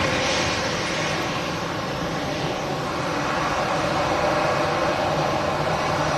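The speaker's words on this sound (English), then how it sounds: "It was the Boeing 777" Boeing 777 engines at Manchester Airport, a dense, steady roar close by that stays even throughout, with a faint hiss on top and no talking.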